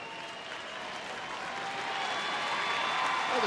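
Late-night crowd at an Angels–Texas baseball game stands and applauds a batter, a broad, swelling roar of clapping and cheers that grows louder toward the end.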